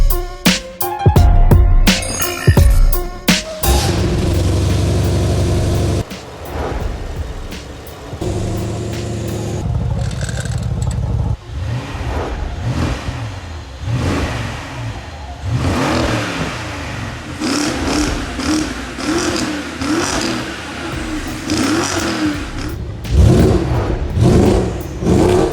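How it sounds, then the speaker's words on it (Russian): A BMW X5 E70 with the N63 5.0-litre V8, sport downpipes and an X6M exhaust barks through sharp revs, then settles into a loud, continuous engine roar with rising and falling pulls, close and with no talking. "Спорт даунпайпа плюс штатный выхлоп и спорт даунпайпа X6M выхлоп."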